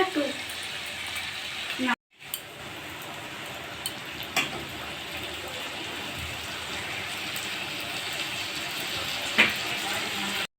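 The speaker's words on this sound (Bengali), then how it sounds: "লাল করে একটু আলুগুলো ভেজে নেব।" Potatoes frying in oil with turmeric powder, a steady soft sizzle with crackling pops running throughout, fairly close, interrupted by a brief cut near the start.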